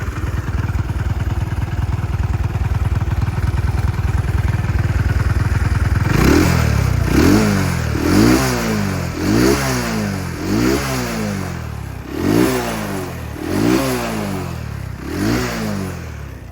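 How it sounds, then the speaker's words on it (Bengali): A used Runner Royel Plus 100cc motorcycle engine idles steadily and close, then is revved in a string of short, loud throttle bursts roughly once a second. "গাড়ির ইঞ্জিনের সাউন্ড কিন্তু খুবই সুন্দর অবস্থায় আছে।"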